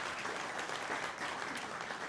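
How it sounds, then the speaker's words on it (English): An audience at a Guide Dogs for the Blind graduation applauds the breeder custodians, a dense, even wash of many clapping hands held at a steady, moderate level throughout. "So a round of applause to our breeder custodians."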